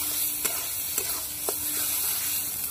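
Spices fry in oil in a pan for a mankochu (giant taro) dish, giving a steady close hiss with three light taps of stirring spaced about half a second apart.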